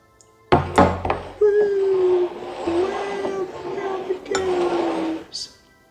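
Bourbon-filled glasses clink and knock together several times as they are shuffled, with sharp glassy impacts at the start and end over a continuous drone.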